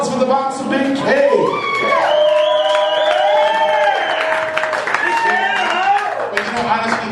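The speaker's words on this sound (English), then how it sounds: "How about a round of applause" At a retirement roast in a Detroit pub, an audience applauds and cheers, with clapping and whoops from a lively crowd while voices carry over the noise.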